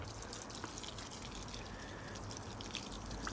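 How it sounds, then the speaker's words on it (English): Water pours into potting soil in self-watering sproutpots, a soft, steady trickle and drip that runs continuously at low volume with a few faint splashes. "now we just need to water it."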